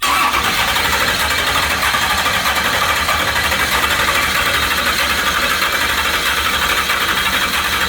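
A stroker LS V8 engine cranking over and running, a dense continuous mechanical roar that stays loud and steady throughout, close up and with no talking.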